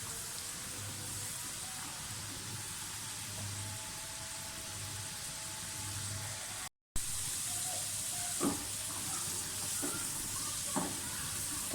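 Masala French fries bubbling in hot oil over a medium flame, a steady close sizzle running the whole way through, with a brief cut partway and a few soft clinks and stirs afterward.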